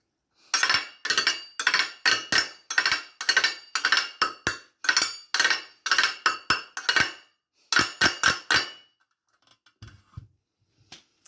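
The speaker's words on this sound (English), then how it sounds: "Also love a good baking tray." A metal baking tray is struck as a percussion instrument in a quick rhythmic pattern of bright, ringing clanks, with a brief pause and a few scattered taps at the end.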